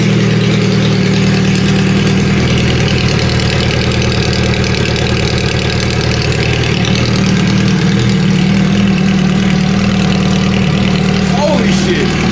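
A Suzuki Hayabusa motorcycle with its muffler removed runs loud and close, a steady raw idle rumble that stays even throughout, with faint background voices and a slight rev blip near the end.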